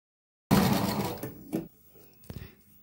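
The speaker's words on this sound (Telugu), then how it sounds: "చూసారు కదా, ఈ విధంగా స్టిచ్ చేసుకున్నామండి." A sewing machine stitches fabric piping in a loud, fast burst that tapers off, followed by two short stitching bursts, with no voices.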